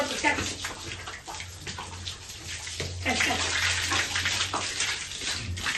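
Water splashes and pours in uneven bursts over a long-coated female dog during a bath, with brief voices mixed in among the gushes.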